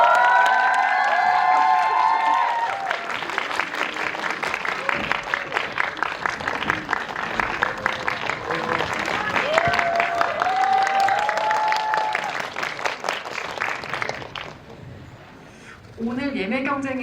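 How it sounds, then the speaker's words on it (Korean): Audience applause and cheering welcome guests at a Korean film screening event with a Q&A session. It is a loud, sustained crowd clapping with shouts and whoops for about fourteen seconds, then it fades. A voice comes in at the end. "큰 박수로 맞이해주세요."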